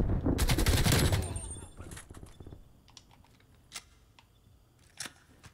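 Gunfire in Call of Duty Black Ops Cold War: a loud dense burst of automatic fire in the first two seconds, then scattered sharp single shots and distant pops fading to quieter background.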